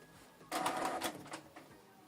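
A Canon Pixma TS8750 inkjet printer powers on with a short burst of mechanical whirring and clicking as its parts move, close by and fairly quiet, fading after about a second.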